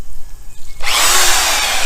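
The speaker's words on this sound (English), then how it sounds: "I'm doing a thorough sanding because you want to get uniform abrasion in there" A power sander starts up partway through for wet sanding of a surface with water, a loud steady broadband whir that sustains to the end after a quieter opening.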